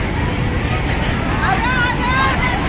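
Heavy road traffic rumbles steadily near Ranjangaon, with vehicle engines and a crowd's babble blending into a constant wash and a few horn-like tones rising midway; voices talk throughout.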